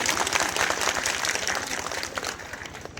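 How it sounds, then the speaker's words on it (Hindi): An audience claps to welcome visiting saints at a temple renovation event in a village, steady rhythmic applause heard from a moderate distance with no talk over it. "तो एक बार इतने सारे संत आए हैं, ताली बजा दी जोड़ने के लिए।"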